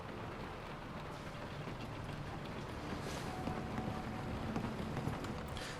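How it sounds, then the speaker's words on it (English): Steady night rain in a video game city, a continuous broadband hiss that swells slightly louder toward the end, with no talking over it. "when it's dark and raining out"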